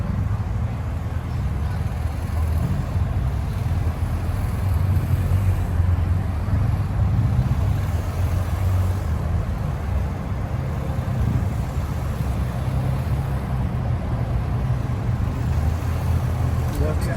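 A police motorcycle engine hums steadily and close throughout figure-eight riding, a constant low drone with no pauses, blended with road and wind noise. No voices are heard.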